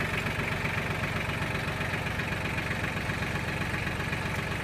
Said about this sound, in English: So now I'm going to slowly back up the tractor so that way I can connect the hoses.